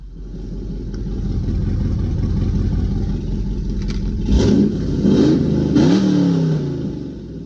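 With the exhaust cutouts open, a 2011 Chevrolet Camaro 2SS/RS V8 on a stock cam idles with a rough rumble, then gives three sharp revs in quick succession near the end. Loud and close, with no voices.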